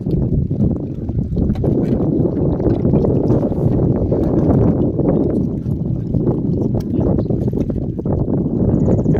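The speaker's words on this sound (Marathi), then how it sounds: "वारा देखील भरपूर सुटला आहे" Strong wind buffets the microphone in a continuous low roar during mudskipper fishing, with rumbling gusts and faint splashing or knocking sounds underneath.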